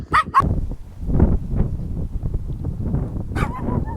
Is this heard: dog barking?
yes